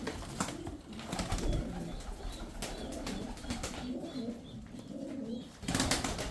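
Soft cooing tumbler pigeons murmur close by, with scattered fluttering and shuffling noises mixed in.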